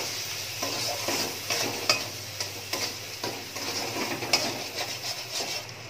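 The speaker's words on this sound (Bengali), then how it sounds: "এবার মশলাটা ভালো করে একটু কষিয়ে নিতে হবে।" A spice paste with Kashmiri red chilli powder stir-fried in a pan for paneer curry, a soft, faint sizzle under frequent quick scraping and tapping of the spoon.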